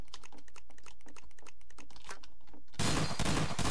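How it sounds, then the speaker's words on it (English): The SA5 Delta shotgun in Garry's Mod: quick clicking and clattering reload handling comes first, then a loud, dense blast of gunfire bursts out and fills the final second. "here we have the SA5 Delta. Oh God, this shotgun, I have to reload, hold down the reload button"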